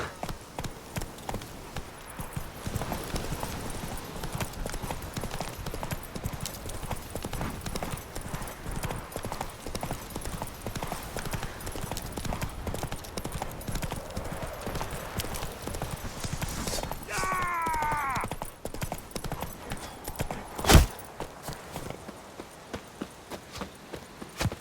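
Hooves of Roach, a horse in The Witcher, clip-clop in a steady rapid rhythm throughout, faint against a busy game soundscape, with a brief sharp sound near the end.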